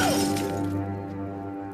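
Glass jar holding a skull smashes on the ground in a late-1990s horror film, a loud bright shatter at the start with tinkling shards fading over a steady low musical drone.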